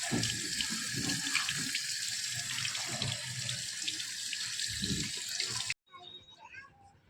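Tap water runs steadily onto poha (flattened rice) as it is washed, a loud and continuous close splashing that cuts off abruptly near the end, leaving faint quieter handling sounds.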